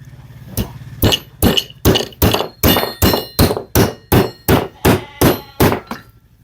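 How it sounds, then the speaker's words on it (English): A hammer drives a nail into wood with a steady series of about fourteen sharp, ringing blows, close and loud, each strike spaced evenly and with no talking. "So we're just going to sink this nail in."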